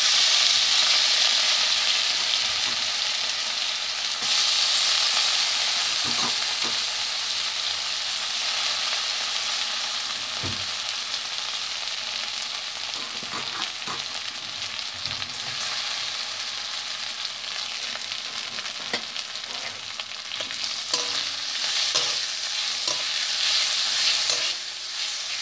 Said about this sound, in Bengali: এবার আমি মুগ ডালটা দিয়ে দিচ্ছি, ধুয়ে রাখা মুগ ডালটা।